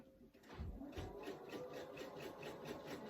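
Sewing machine stitching a fabric tissue box cover, a steady close mechanical whir with rapid rhythmic needle ticking throughout, fairly quiet.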